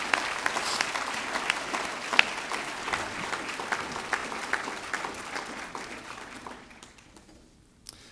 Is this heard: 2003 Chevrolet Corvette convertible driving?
no